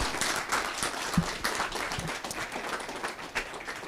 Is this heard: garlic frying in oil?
no